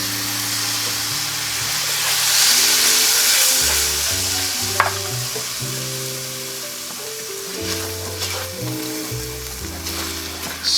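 Tomato sauce hits a hot pan over browned tomato fond and sizzles loudly and continuously, a broad hiss that swells and then settles, over a low sustained tone, with a single sharp scrape partway through.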